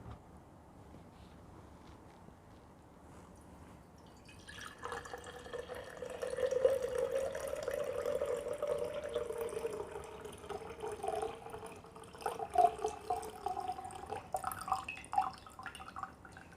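Water poured from one jug into another, a soft steady trickle that starts after a few quiet seconds and runs continuously with small splashes and drips near the end.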